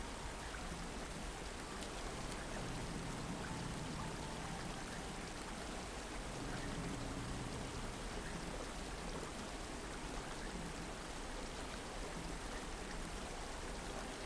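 Water effects in Batman: Arkham Asylum (2009): a steady, even wash of rushing, rain-like water noise that continues without a break, fairly faint, with no talk.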